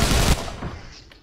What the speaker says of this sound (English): Sorry, I'll just snipe.